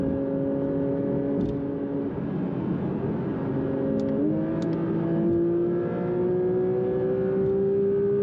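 A car engine drones steadily from inside while driving, with a smooth tone that shifts upward partway through, low and even, and no talking.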